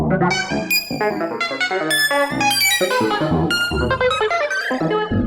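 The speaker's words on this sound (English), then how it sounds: "I've added this strings filter in here, which is basically some sort of a comp filter" A bright, resonant synth line passed through a modulated comb filter, with metallic, ringing overtones that shift and warble as notes change, played continuously and loud without any voice.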